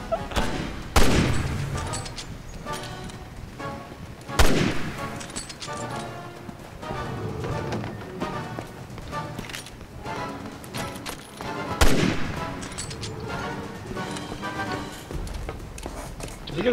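Rifle shots in the co-op video game Resident Evil 6, a few sharp, loud single cracks spaced several seconds apart, with players talking over the game sounds in between.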